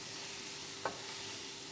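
Shrimp and vegetables, including carrots, sizzle softly in a pan during a stir fry, with a faint steady hiss and a single quick scrape of stirring midway.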